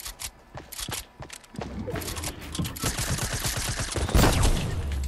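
Rapid bursts of gunfire from a Fortnite match crackle close and loud, with quick repeated shots and mechanical clicks building into dense firing near the end.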